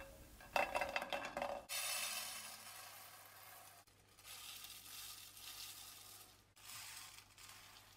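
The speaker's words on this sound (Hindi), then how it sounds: "और अब हम इन सब साबित मसालों को फ्राइंग पैन में डालकर इकट्ठा ड्राई रोस्ट करेंगे।" Whole spices for chaat masala dry roasting in a frying pan, rattling and rustling as they are tossed and stirred, with a soft steady hiss between louder scraping bursts and no talk.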